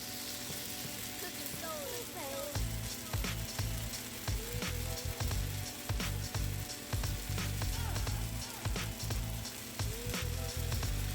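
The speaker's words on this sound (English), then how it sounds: "And hear that sizzle." Healthy pancake batter poured into a medium-hot pan and sizzling, a steady close frying hiss with small irregular pops and clicks throughout.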